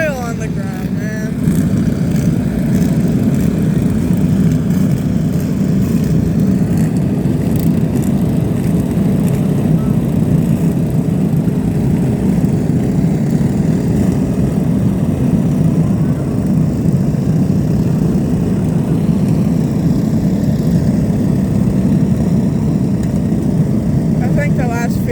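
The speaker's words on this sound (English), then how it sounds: "I think the last few mowers are coming in now" Several lawn mower engines run together as the mowers arrive, a loud, steady droning rumble that holds for the whole stretch with no pauses.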